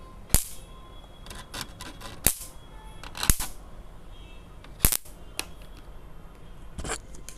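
An electric mosquito swatter bat, newly repaired, snaps with sharp crackling sparks at irregular intervals, several loud close zaps separated by quiet hum.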